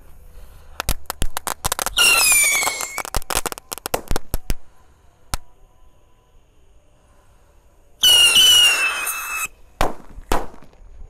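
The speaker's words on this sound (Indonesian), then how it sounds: "Di sini ada roket pirotor. Kita nyalakan 3 sekaligus guys." Pyro rocket fireworks, three lit at once outdoors at night: sharp fizzing crackles and pops, two bursts of shrill whistling screech as rockets launch, then scattered loud bangs between quiet gaps.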